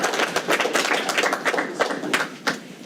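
A county commissioners meeting audience breaks into applause, a few seconds of uneven, fairly close clapping that thins out toward the end.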